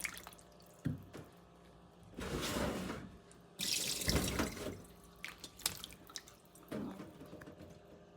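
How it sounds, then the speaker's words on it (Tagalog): Green beans are rinsed under a cold kitchen tap, with several bursts of running, splashing water broken by short pauses and scattered drips and clinks. "Napanihugasan pa ng malamig na tubig para hindi mag-iba yung kulay."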